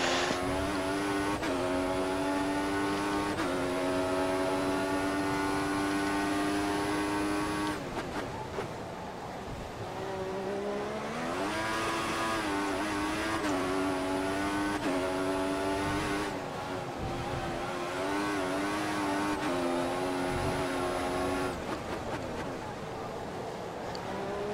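Race cars in the F1 2014 video game at the Bahrain Grand Prix scream through repeated gear upshifts, their high engine pitch climbing and dropping as they brake and accelerate, loud and continuous.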